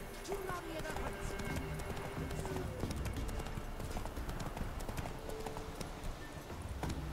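The horse Roach gallops in The Witcher 3: Wild Hunt, with rapid, rhythmic hoof clip-clops that continue steadily under a speaking voice and game background sound.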